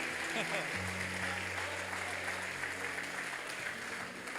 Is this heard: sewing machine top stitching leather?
no